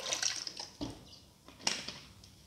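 About 250 ml of water poured into a pot for a chicken, potato and fenugreek patty dish, a soft, faint splashing trickle with a few brief louder spurts, no voices.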